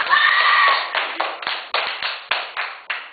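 A small group claps in a classroom team activity, a steady patter of hand claps that swells in repeated bursts, with a faint voice early on.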